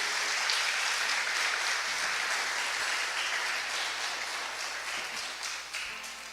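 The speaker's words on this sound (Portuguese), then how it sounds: "Você pode aplaudir o nome de Jesus?" Church congregation applauding at a congress, a steady wash of many hands clapping that holds for several seconds at moderate level, with no talking over it.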